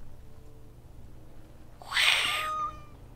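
A single cat meows once in the Dragon Age video game, a short bright mew rising out of a quiet ambient background, fairly close and clear.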